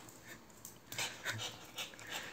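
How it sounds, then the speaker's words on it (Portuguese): An anxious dog pants quickly and breathily up close, with a few soft whimpering breaths mixed in over a short stretch, no talking. "pensa numa cachorra que é ansiosa"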